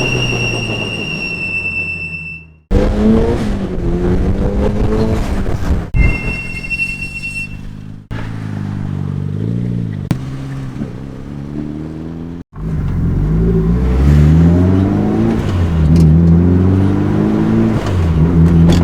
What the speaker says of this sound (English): I want to keep RPM all the way to the top.